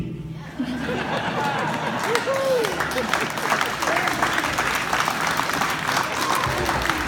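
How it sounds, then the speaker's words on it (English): A crowd applauds at a fiddlers convention dedication ceremony, sustained dense clapping with scattered laughter and chatter, loud and close, filling the whole stretch after a brief opening. "Let's give Mr. Caviness one more round of applause for all he's done."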